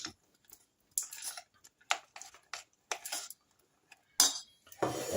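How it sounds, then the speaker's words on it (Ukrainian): A spoon clinks and scrapes against a pot while a nut mixture is stirred into hot syrup for homemade brittle, giving sparse, quiet taps and scrapes separated by near silence. "Висипаю нашу підготовлену горіхову суміш. Все гарненько розмішую, тому що сироп дуже швидко застиває."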